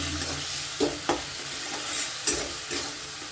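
Spice masala with chilli powder, sugar and salt is stirred and sautéed in a pan, giving a steady sizzle broken by several distinct scraping strokes, with no talking.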